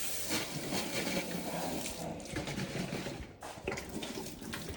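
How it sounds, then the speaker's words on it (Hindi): Water pours steadily into an air cooler's tank, a continuous splashing rush that stays fairly faint and even throughout, with no voices. "फिलहाल तो कूलर में पानी भरेंगे"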